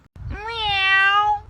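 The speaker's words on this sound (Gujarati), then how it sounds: "આ બિલાડીને મૂકવા જવાનું છે" A cat gives a single clear, drawn-out meow at close range, rising slightly then holding steady for about a second before cutting off.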